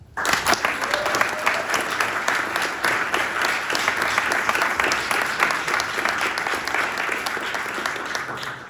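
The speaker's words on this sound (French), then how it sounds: "Je vous demande d'applaudir bien fort Michael Gilles" An audience gives loud, sustained applause to welcome a speaker at a public talk on exoplanets and Mars exploration, dense clapping that holds steady for several seconds before easing off.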